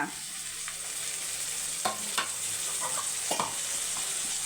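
Onions sautéing in a pan for prawn thokku, a bright continuous sizzle punctuated by several quick spatula scrapes and taps against the pan, close and without talk.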